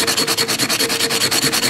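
A metal tin can lid is rubbed hard against coarse concrete in a fast, regular back-and-forth scraping rhythm, about eight gritty strokes per second, close and loud with no talk.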